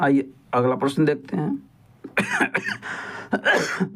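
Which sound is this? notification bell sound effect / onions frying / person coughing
person coughing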